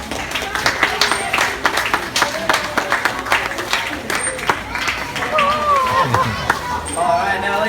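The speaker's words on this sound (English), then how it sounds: "give the Dolphins a nice big wave goodbye, and one more big round of applause for them as well" An audience at a dolphin show at a marine conservation park in Coffs Harbour gives scattered, moderately loud applause, with crowd voices and chatter mixed in throughout.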